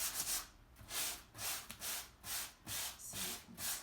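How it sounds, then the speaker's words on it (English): Sandpaper rubbing back and forth over waxed chalk-painted wood to reach bare wood, a steady rhythm of about eight close, even strokes with no talking. "so I can sand through to get some of that wood"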